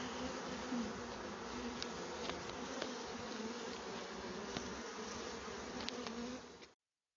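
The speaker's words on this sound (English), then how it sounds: "So you'll see quite a few bees now flying" A dense, steady drone of many honey bees buzzing and flying close by, continuous throughout with no voices.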